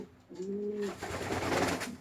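A pigeon gives a low, throaty coo close by, a short rolling call, followed by rustling and shuffling noise.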